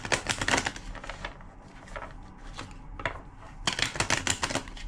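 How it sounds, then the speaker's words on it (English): Rapid papery riffling clatters in bursts, like cards being shuffled, with a brief pause between runs; close and moderately loud. "2 more shuffles."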